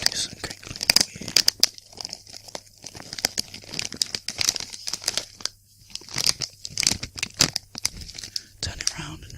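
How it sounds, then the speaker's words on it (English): A crisps packet is crinkled and crumpled close up in a series of quick crackling rustles, with soft whispering in between. "Just do some crinkling for you."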